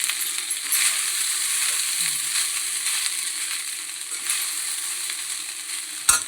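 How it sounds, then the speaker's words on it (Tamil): Lemon rice is stirred in a hot pan, with a steady bright sizzle and soft scraping running throughout and a sharp knock near the end. "லெமன் சாதம் கிளறிடலாம்."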